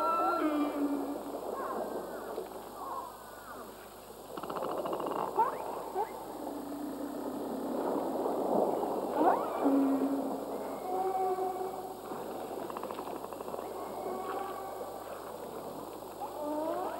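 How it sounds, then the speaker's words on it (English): Killer whales vocalizing underwater near returning salmon: moderately faint rising and falling whistles and squeals overlapping in a continuous chorus, set against a steady hum and hiss. "Of all giant marine mammals, killer whales are among the noisiest."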